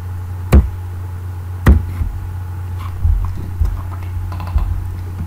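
Sparse keystrokes on a computer keyboard while coding a Java and MySQL project, a few distinct taps and clicks over a steady low hum, no talking.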